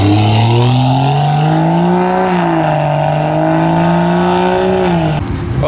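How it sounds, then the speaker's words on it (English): A Ford Mustang doing donuts at a rowdy car meet holds a loud, sustained engine roar close by that wavers slightly with the throttle, then breaks off at the end. "there's somebody trying to do some donuts down there in a Mustang"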